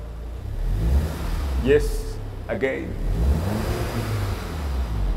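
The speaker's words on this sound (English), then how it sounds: "Please rev it a bit for us." Volkswagen Golf engine, a Golf R or GTI, revs twice in short bursts over a steady idle rumble, heard close by with people talking over it.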